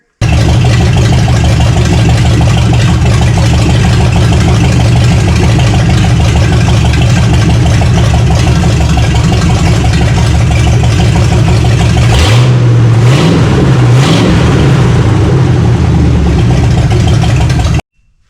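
1969 Buick Riviera engine running loud and close for the whole stretch, a steady deep idle rumble with a brief rev and dip near the end before cutting off.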